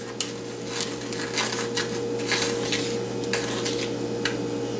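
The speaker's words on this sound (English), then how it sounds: "Mix the sugar with the cinnamon." Sugar stirred with cinnamon for snickerdoodles: a steady run of light scraping and tapping of a utensil in a bowl, close, over a constant low background hum.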